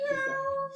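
A single close, clear cat meow, drawn out and steady for under a second.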